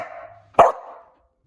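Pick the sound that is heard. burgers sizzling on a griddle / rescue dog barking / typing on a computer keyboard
rescue dog barking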